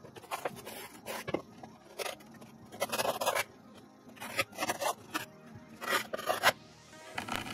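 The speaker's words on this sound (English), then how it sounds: "we mark with a screwdriver where we will cut off the extra grip tape" A screwdriver scrapes along grip tape stuck to a DIY electric skateboard deck, marking a cutting line. Short, gritty strokes repeat in bursts, close and fairly quiet, with no talking.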